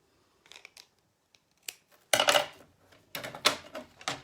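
Scissors cutting paper or card stock for a handmade candy box, with a few light snips and taps, then louder, rapid crisp cuts in quick bursts, close and without talk.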